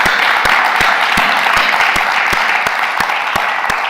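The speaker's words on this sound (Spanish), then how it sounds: "lo que se merece es un aplauso gigantesco a esta persona" Loud, sustained applause from an audience at the close of a music-industry podcast, a dense wash of clapping with sharp individual claps cracking through at a quick, irregular pace.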